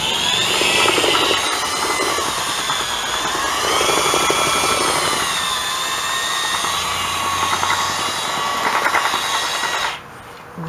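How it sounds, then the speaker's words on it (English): A power drill whirs loudly and steadily as it churns thick tile mortar in a bucket, its pitch wavering with the load, then cutting off near the end. "Readjust the drill position here, and I have my feet holding the bucket in."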